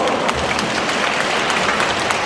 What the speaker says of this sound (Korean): 단장님 자신을 위해서 박수 한번 쳐요